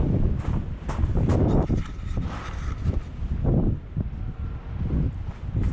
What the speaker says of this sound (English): this wind is freaking nuts, man